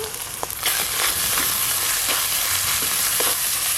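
Ginger, green chili and ground spices (turmeric, coriander, Kashmiri chili powder and salt) fry in a pan for chana masala. A loud, close sizzle runs throughout, broken by repeated scraping stirs of a spatula, and nobody talks.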